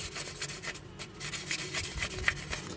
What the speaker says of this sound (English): So I go over the whole piece with 3000 grit sandpaper, again paying special attention to all of these details.